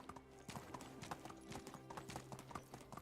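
Horse hooves clip-clop in the Medieval Dynasty video game, a steady rhythmic trot of quick, even steps that stays quiet throughout.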